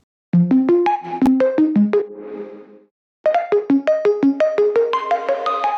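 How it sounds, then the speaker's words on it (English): Bright synth pluck notes from a song intro bounce through a quick stepping melody, a short phrase, a brief gap, then a second busier run, crisp and close with no voices. "The main thing that we hear, of course, is that pluck."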